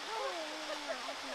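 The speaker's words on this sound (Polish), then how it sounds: "Po drodze mam mały wodospad." A small mountain waterfall in Beskid Śląski gives a steady, faint broadband rush of falling water, continuous through the moment, with a voice speaking over it.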